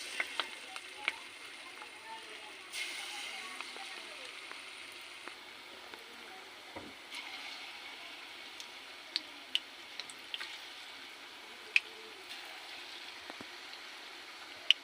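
Bondas made with curd fry in hot oil, giving a faint, steady crackle with scattered sharp ticks and pops throughout.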